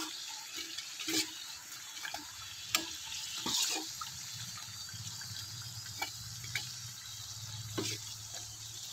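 Sweet potato kamote cue frying in a wok-style pan, a steady sizzle of hot oil with scattered sharp clicks and taps of a utensil stirring and turning the pieces, heard close without talk.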